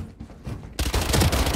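Valorant gunfire erupts abruptly after a low rumble, a dense burst of rapid close shots that rattles on loudly to the end.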